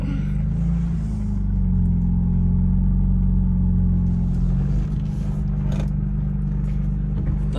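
A 1991 BMW E30 M3 fitted with a swapped S54 engine idles nearby, a steady deep rumble with a faint change in pitch partway through.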